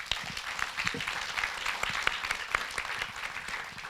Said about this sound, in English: Shall we give him a round of applause once again?